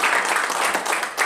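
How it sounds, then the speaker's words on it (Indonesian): Church congregation applauding together, a dense steady wash of many hands clapping at close range, holding full strength through a short burst with no voices standing out. "Tepuk tangan buat Tuhan Yesus."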